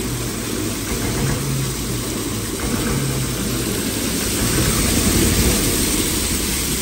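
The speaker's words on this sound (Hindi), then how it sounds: "छोटा ट्रैक्टर है" A small tractor's engine runs steadily at an onion market, a continuous low droning idle with broadband noise, close and fairly loud, swelling slightly toward the end with no talk.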